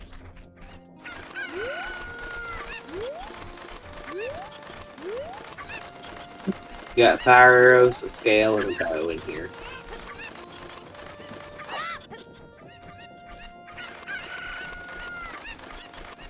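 Chickens cluck and a rooster crows loudly for a moment in the Ocarina of Time game, all under a continuous music track and game effects, while someone talks over them.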